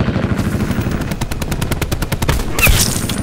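Rapid automatic gunfire from an attack helicopter in Call of Duty: Black Ops 4 rattles in a fast steady stream of loud bursts, ending in a sharper blast near the end, with no talk.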